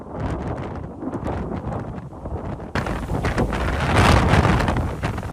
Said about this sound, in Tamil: மணிக்கு 300 கிலோமீட்டர் வேகத்தில் தாக்கி ஜமைக்காவை புரட்டி போட்டிருக்குது மெலிசா சூறாவளி